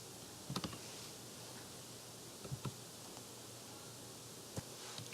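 Faint typing on a computer keyboard at a Windows 7 machine, a few short bursts of clicking keystrokes separated by pauses over a quiet background hum.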